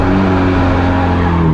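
Cream Nissan S13 drift car under hard throttle, its engine roaring loud and close in one sustained, slightly rising note with no speech.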